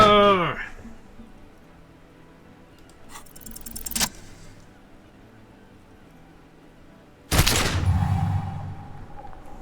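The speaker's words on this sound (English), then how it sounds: "A plume of smoke and fire erupts from the gun, and your hand goes numb from the explosion." Gunshot sound effect in a dramatic spoken story: a sharp metallic burst near the four-second mark, then a louder blast that rings and rumbles on for a couple of seconds, with a voice heard at the start.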